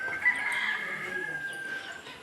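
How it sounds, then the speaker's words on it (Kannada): Chickens kept at a rural village home in the Hassan area, Karnataka, with a rooster crowing in a long drawn-out call over steady background clucking, moderately close and with no talk. "ಇವಾಗ ತುಂಬ ಕೋಳಿ ಸಾಕ್ತಾರೆ ನೋಡಿ ಇಲ್ಲೆಲ್ಲ."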